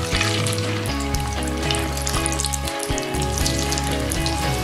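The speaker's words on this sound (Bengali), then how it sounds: "তারপর এর মধ্যে আলুগুলোকে আমি দিয়ে দিচ্ছি" Potato fries dropped into hot oil on a medium flame, a loud, dense, crackling sizzle of frying that fills the whole stretch, close up and steady.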